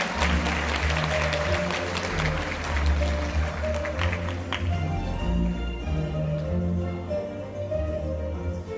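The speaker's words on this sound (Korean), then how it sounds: "힘찬 박수 부탁드리겠습니다" An audience at a World Day ceremony in Korea applauds an award recipient, sustained clapping of a crowd over steady background music, thinning and tapering off after the first half.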